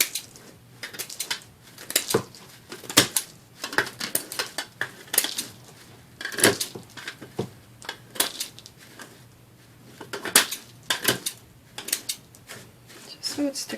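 Scissors snip through paper grass for Easter egg flowers in a run of sharp, irregular clicks and cuts, close and fairly loud, with brief pauses between bursts.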